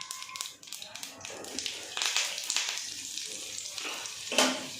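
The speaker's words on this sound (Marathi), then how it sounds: "आता याच्यामध्ये ना मोहरी घालते मोहरी चांगली तडतडू द्यायचं आहे" Mustard seeds and curry leaves crackle in hot oil as a tadka for a chutney. Quick sharp pops and spatters sound close over an uneven sizzle, with a louder burst near the end.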